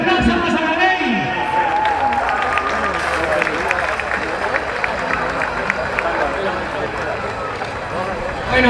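Crowd clapping and cheering at the finish of the 15 km Villa de Massamagrell road race in 2016, a steady wash of applause and murmur running under continuous announcer speech.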